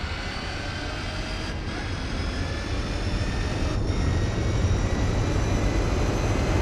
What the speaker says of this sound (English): I can hear the Zonda behind me.